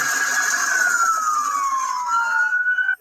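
A stolen ambulance's wailing siren during a police chase, the vehicle speeding on a flat tire, one loud, steady tone sweeping slowly down and back up before cutting off abruptly.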